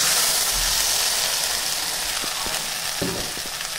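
A steady sizzling hiss of poppy seed, chilli and garlic paste frying in a pan, close up, with a few soft clicks and scrapes of stirring toward the end.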